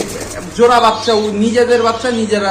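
Low, throaty coos of beauty pigeons rise and fall close by, mixed with someone talking over them.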